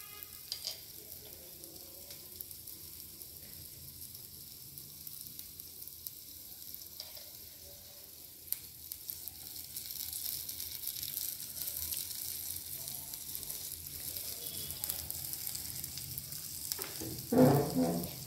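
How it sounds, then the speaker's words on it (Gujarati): Vegetables stir-fry with salt, chili flakes and oregano in a tiny miniature kitchen pan, making a faint, steady sizzle that grows slightly louder partway through, with a brief clatter near the end. "વેજીટેબલ સ્ટર ફ્રાય થઈ ગયા છે."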